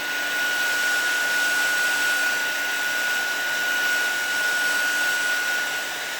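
A heat dryer blows steadily and loudly over small ink-stained, die-cut paper bird pieces. The airflow hum stays constant throughout, with no talk over it.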